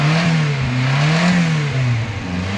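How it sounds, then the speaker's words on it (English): A 1994 Subaru Sambar kei van engine idling loudly close by, its pitch rising and falling through a couple of revs before settling back down. "You can give it a couple of revs"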